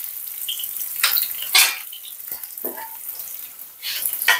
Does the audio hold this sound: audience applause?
no